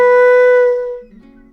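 A single sustained flute note, B, rings clear and close, steady for most of a second before fading out, followed by a faint low tail.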